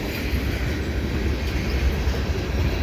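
A CSX fast freight train rolls steadily past at the Dorval ramps, a continuous low rumble of wheels and cars holding at an even, fairly loud level throughout, with no voices.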